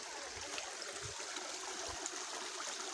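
A spring at Malabanahaw Falls in Calatrava, Negros Occidental, flows in a steady broad rush and trickle of water. It sounds close and continuous, with no voices.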